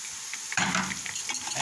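Vermicelli noodles frying in oil in a pot while being stirred, a sudden loud sizzle and scraping swell after a quiet start, continuing close and steady.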